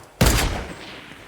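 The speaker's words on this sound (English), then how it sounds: "I'm getting shot at by this guy right here." Gunfire in the video game Fortnite: a sudden loud burst of rapid shots that cuts in sharply, then rings off into a fading echo, with no talking.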